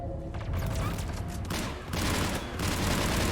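Rapid bursts of turret gunfire in the video game Mass Effect 3, loud and continuous, with sustained rattling volleys that briefly ease before surging again.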